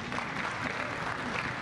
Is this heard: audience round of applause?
yes